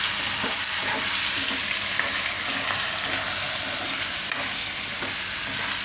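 Spices with red and Kashmiri chili powder are stirred into hot oil in a frying pan, a loud, dense sizzle with scraping spoon strokes running throughout.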